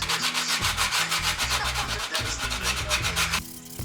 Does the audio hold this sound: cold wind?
no